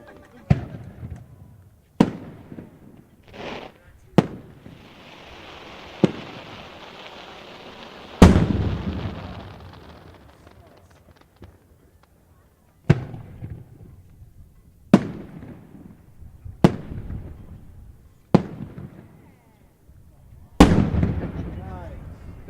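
Firework shells bursting in a bottom shot, a series of about ten sharp booms at irregular intervals, some followed by crackling tails and one long hissing spray, heard from a distance.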